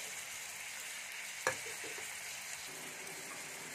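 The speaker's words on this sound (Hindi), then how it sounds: "कटी हुई हरी मिर्च डालकर हाई फ्लेम पर 1 मिनट तक फ्राई करेंगे।" Onion, capsicum, tomato and green chilli fry over high flame in hot oil, giving a steady, moderately loud sizzle with one sharp clatter partway through.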